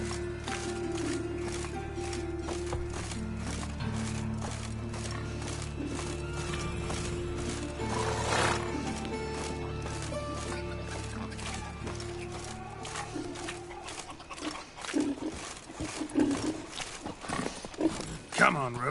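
Hooves of the horse Roach clip-clop at a steady gallop in a video game, a continuous rhythmic pounding that stays close and fairly loud, with a short whinny and a voice speaking over it.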